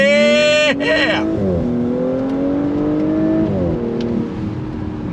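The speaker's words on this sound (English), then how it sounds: "On throttle, here we go," A 2022 Audi S5 Cabriolet with quattro all-wheel drive accelerates hard with the top down, its engine note climbing through a gear change into a loud sustained pull, heard up close from inside the car.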